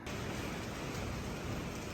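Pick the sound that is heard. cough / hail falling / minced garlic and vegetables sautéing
hail falling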